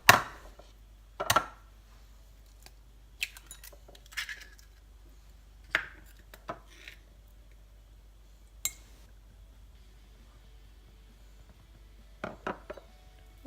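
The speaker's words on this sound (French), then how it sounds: "On commence par casser les 2 œufs entiers, puis on y ajoute le sucre" Two whole eggs being cracked and sugar added for a jam tart: sparse, close, quiet knocks and clinks of shell against a bowl rim, spaced apart over near silence, with a few soft scraping taps later.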